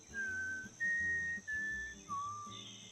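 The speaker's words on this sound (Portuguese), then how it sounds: "a Katniss manda um assobio, assim, pra meio que testar os pássaros" Katniss's four-note mockingjay whistle from The Hunger Games, a clear human whistle of sustained pure tones stepping up and then down, heard alone over a faint low backdrop.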